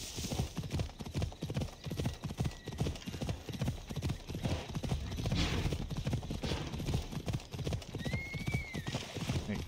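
Horse hooves clip-clop steadily in Assassin's Creed Odyssey, a continuous run of rapid, loud hoofbeats with a brief whinny near the end and game ambience underneath.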